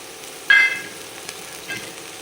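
Sprouted green gram dropped into a hot pan gives a brief sharp sizzle that quickly fades into soft frying crackle, close and fairly loud.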